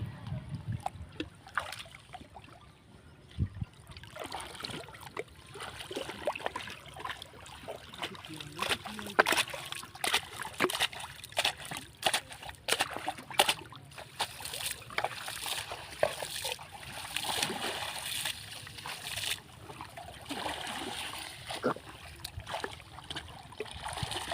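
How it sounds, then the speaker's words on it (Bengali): Fishing net rinsed in water beside a boat during indigenous fishing, with repeated splashes and sloshing close by over a steady outdoor background. "জালটা ধুয়ে নেওয়া হলো"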